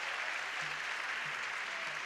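A ceremonial audience at a Hippocratic Oath event for a health sciences faculty claps steadily, a dense, even wall of applause from many hands with faint low tones pulsing beneath.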